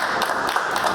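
A short burst of audience applause at a live writing session, steady rapid clapping from a room of people.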